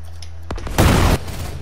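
Rocket blasts in the Fortnite Reload video game, with a short pop followed by a louder, sustained broadband burst of explosion noise lasting under half a second, then fading back to quieter game ambience.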